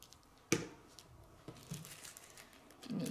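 A paper sandwich bag is laid down and pressed flat during a star craft. It gives a sharp crinkle, a softer rustle a second later, then more crumpling at the end, close and quiet.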